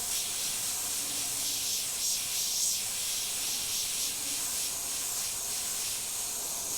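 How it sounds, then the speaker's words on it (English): An airbrush sprays white paint over a skull design, giving off a continuous airy hiss that stays close and even throughout, with no voices. "then you can just airbrush back over it, and it's going to get it nice and bright instead of trying to saturate it all in one hit."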